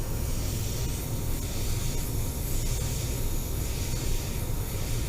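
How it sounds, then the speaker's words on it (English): A spray gun sprays blue and white paint, a continuous loud, steady hiss with no break, heard alone. "So as I'm spraying, the white's coming out,"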